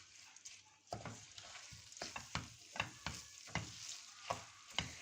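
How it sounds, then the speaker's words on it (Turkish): A spoon stirs the filling for stuffed grape leaves in a pot, making a rhythmic series of close scraping strokes about every half second over a faint, quiet sizzle, no voices. "Tekrardan karıştırıyoruz."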